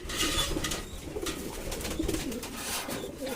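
Pigeons in a breeding loft coo softly and repeatedly before bathing, a close, low murmuring chorus with faint rustles.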